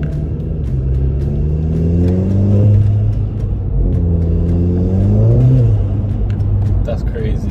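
A VW Golf MK7 R with its EA888 turbo engine and a RamAir induction kit revs loudly from inside the cabin, pitch climbing in two strong pulls with a gearchange between them, while a voice talks over it.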